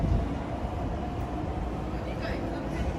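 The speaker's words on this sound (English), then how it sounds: "Oh, bye Anpanman train." An Anpanman-themed train passes through the Shikoku countryside in Japan, a steady broad rumble of wheels and carriages that stays loud and close across the whole stretch.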